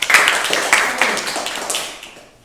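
A short round of clapping from a classroom or meeting audience, a few distinct hand claps standing out at the start, then fading out quickly within a couple of seconds.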